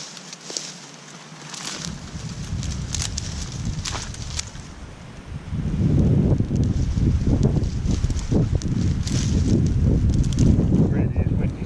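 Gusty wind buffets the microphone outdoors during fire lighting with birch, a low rumbling roar that grows stronger halfway through, with faint crackles on top.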